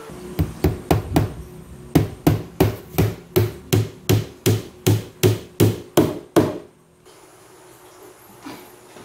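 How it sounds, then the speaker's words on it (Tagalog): A hammer strikes repeatedly while a kitchen pantry cabinet is assembled, with about sixteen loud, evenly spaced blows in a brisk rhythm before stopping into quiet room noise. "napalakas yung pukpuk ko kanina, kaya medyo nag-chip"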